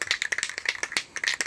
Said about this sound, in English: I'm shaking the can.